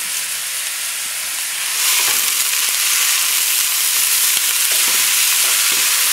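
Vegetables for a Creole sauce sautéing in a pan over a raised flame, a loud broad sizzle that swells partway through, with periodic light stirring taps.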